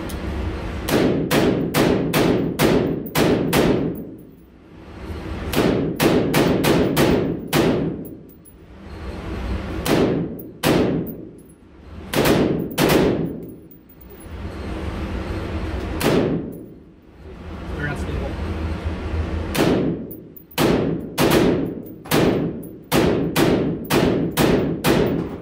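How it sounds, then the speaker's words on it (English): Gunshots from an Omni Hybrid Maxx custom-build rifle ring out in quick bursts of sharp cracks, several rapid strings of shots separated by short pauses, loud and close with ringing metallic decay. "Might be safe enough to fire four more mags, so under 20 rounds."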